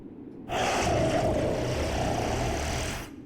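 A sleeping creature in the Fire Emblem: Three Houses video game lets out one long, loud, rough snore that begins abruptly, holds for about two and a half seconds, then fades away.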